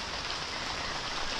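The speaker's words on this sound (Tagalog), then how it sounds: "Medyo naambon-ambon lang. Mahina naman ang ulan." Light drizzle falling outdoors, a steady soft hiss of fine raindrops on surfaces with no other sounds over it.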